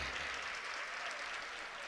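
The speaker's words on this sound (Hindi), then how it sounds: "एक बार इनके लिए जोरदार ताली बजाइए।" A crowd at a Republic Day nazm recitation gives steady, dense applause that stays even and continuous throughout, with no talking over it.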